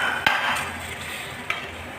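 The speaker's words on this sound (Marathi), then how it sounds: "छान असं ढवळून घेतलं आणि एक उकळी येऊ दिली." Cooked red kidney beans (rajma) stirred in a pot of red gravy, a soft steady scraping swirl with two sharper clinks of the spoon against the pot.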